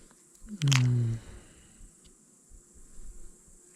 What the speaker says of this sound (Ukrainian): скільки комарів